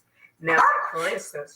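A pet dog barks and whimpers indoors, wanting up onto the couch; the short yipping barks sound close and mix with a person talking over them.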